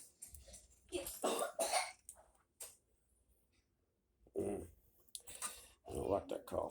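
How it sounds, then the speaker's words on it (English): Several sharp coughs in quick bursts, close by, separated by short pauses with a faint high tone in the quieter stretch. "I don't like that cough."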